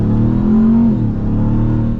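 A Ram TRX pickup's engine revs and accelerates hard, a loud close-up growl rising in pitch and then settling into a sustained roar.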